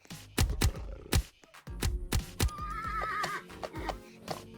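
A horse in the Roblox game 99 Nights in the Forest whinnies with a wavering neigh midway, surrounded by sharp, loud clip-clop thuds and in-game clatter.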